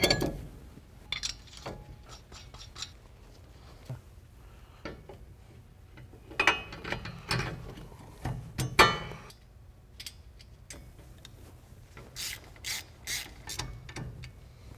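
Lug nuts being tightened with a ratchet on a Jeep Wrangler front brake rotor: bursts of quick, close mechanical clicking, pausing between runs and growing sharper and louder toward the end.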